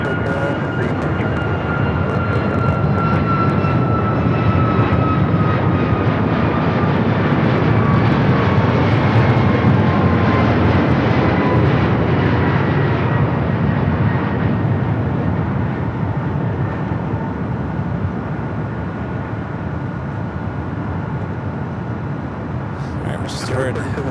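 A Cathay Heavy jet on landing approach to LAX runway 6 left roars steadily and loudly for the whole stretch, its engine drone rising slightly and then easing, while radio talk plays over it.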